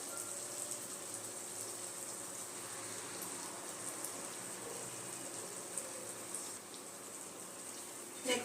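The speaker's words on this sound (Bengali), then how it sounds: "হালকা একটু লাল লাল করে ভেজে নেব দেখুন" Dhuska, a Jharkhand fried rice-and-lentil bread, sizzling in hot oil in a pan as it turns lightly reddish, a steady soft crackling hiss running throughout with a few small pops near the end.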